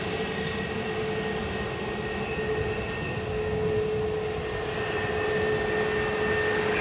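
Airliner taking off from runway 10 right at Dublin Airport: a steady, distant jet roar holding level with a faint whine, slowly swelling over several seconds.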